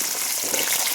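Curry leaves and dried chillies drop into hot oil alongside fenugreek seeds and urad dal, giving a close, steady sizzle with faint crackles for a second, no voices.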